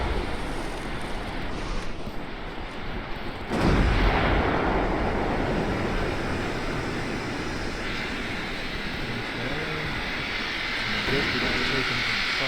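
Booming gunfire and heavy explosions in the naval video game Sink the Bismarck, a sustained loud rumble with a sudden blast partway through, continuing as dense low roar.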